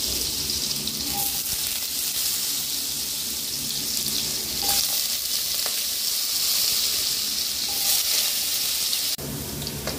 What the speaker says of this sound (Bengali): তেলটা গরম হলে আলুগুলোকে ভেজে নেব।